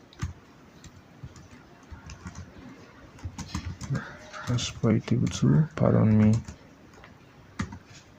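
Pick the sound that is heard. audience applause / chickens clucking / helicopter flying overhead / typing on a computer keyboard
typing on a computer keyboard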